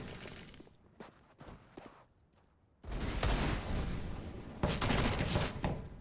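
Counter-Strike gunfire plays during a professional DreamHack Masters match, with a few sparse faint shots and then a loud sustained burst of rapid fire and clattering impacts lasting several seconds.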